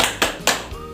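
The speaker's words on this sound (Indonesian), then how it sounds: "Tepuk semangat." Rhythmic spirit clapping (tepuk semangat) in an Indonesian microteaching class, with a few sharp, distinct claps in a short pattern, close and fairly loud.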